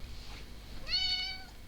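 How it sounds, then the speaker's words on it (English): A pet cat meowing indoors, one clear drawn-out meow close to the microphone, preceded by a fainter short vocal sound over quiet room background. "Oh, that's my cat."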